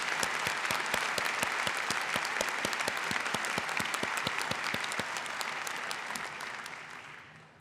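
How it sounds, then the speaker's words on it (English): Applause fills the hall at a university presidential installation ceremony, honoring a couple with steady, dense clapping and crisp individual hand claps, gradually fading out at the end with no voices. "A round of applause for Jerry and Karen Kolchowski."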